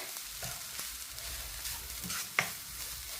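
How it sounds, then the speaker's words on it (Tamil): Grated coconut stirred into tapioca puttu kothu in a pan, soft sizzling under a few scraping strokes of the spoon and one sharp knock against the pan near the end, no one talking. "தேங்காய் பூவை போட்டு நல்லா மிக்ஸ் பண்ணி கொடுங்க"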